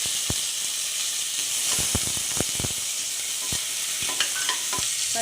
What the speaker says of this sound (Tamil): லைட்டாக இது கிண்டிக்கோங்க. வெங்காயம் போட்டுக்கோங்க.